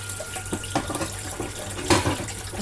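Washing up under a running tap: a steady rush of water into a sink, broken by splashes and clinks of items being rinsed.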